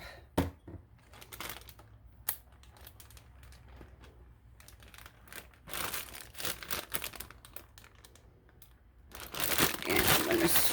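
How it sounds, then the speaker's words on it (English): Plastic zip bag holding garlicky beef marinade being sealed and squished by hand, with close crinkling and rustling bursts that come in uneven clusters and grow loudest near the end. "I'm going to seal this bag up."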